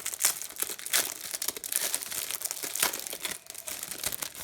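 Plastic wrapping on a pack of colored A4 paper is torn open and crinkled up close, a continuous loud crackling with sharp rips and rustles throughout, no voices.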